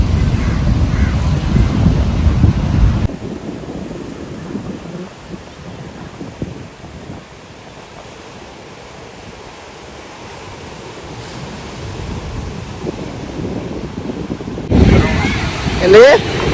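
Ocean surf at Yarada beach near Vizag rolls and crashes loudly under strong wind buffeting the microphone, easing to a softer steady roar midway before a louder gust and wave return at the end.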